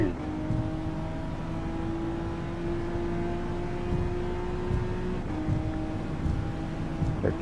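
Car engine held at sustained high revs at full throttle in the Gran Turismo-style racing game WTC 600 at Tokyo East, a steady loud drone with a brief dip and pitch shift near the five-second mark as it shifts, under faint talk.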